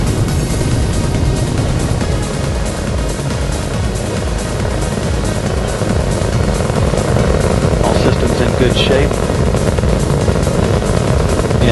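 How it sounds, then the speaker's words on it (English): Space shuttle Atlantis main engines during launch, a loud continuous rumbling roar that runs unbroken under a brief radio voice from launch control. "Engines throttling down as Atlantis prepares to maneuver through the area of maximum dynamic pressure on the vehicle in the lower atmosphere."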